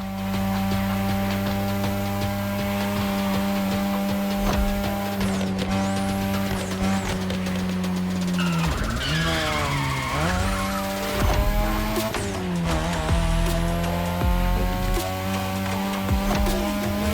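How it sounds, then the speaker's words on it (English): A third-generation 2002 Mazda RX-7 with a rotary engine races in The Crew Motor Fest, its engine droning loud and steady with rising and falling revs, shifts and squealing tires throughout. "your ride is a third-gen 2002 Mazda RX-7. Lightweight, compact, a sick rotary engine"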